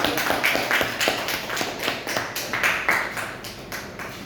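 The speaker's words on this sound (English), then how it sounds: "With a thunderous round of applause" An audience at a speaking club event claps for an introduced speaker, the claps landing together in a steady, rhythmic beat, moderately loud and close.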